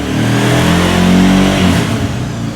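An ATV engine revs up loud and close, holding a steady droning roar that climbs in pitch and sustains throughout with no talking.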